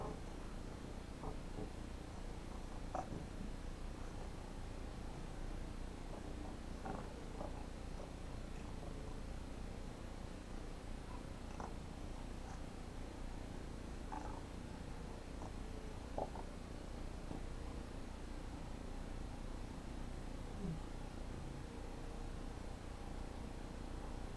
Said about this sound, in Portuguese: A gata vem, mexe alguma coisa